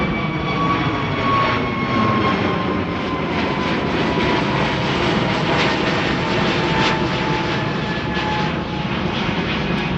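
A jet airliner at Amsterdam Schiphol Airport roars loud and steady on takeoff for the full stretch, a broad, constant engine rumble with no talk over it.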